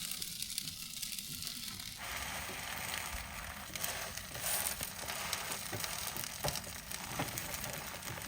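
Cheese frying in a pan with a tortilla laid on top while camping in the snow: a quiet, steady sizzle and crackle that keeps on without a break, heard close up.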